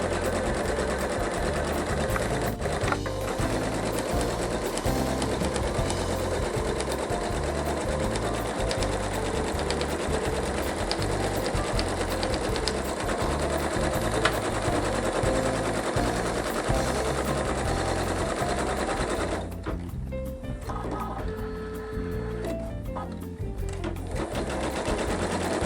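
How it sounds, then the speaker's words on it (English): An embroidery sewing machine stitches cutting guides onto stabilizer alone, a fast, steady, close needle chatter running without pause, then dropping briefly in intensity near the end before resuming. "we're stitching right now only on stabilizer"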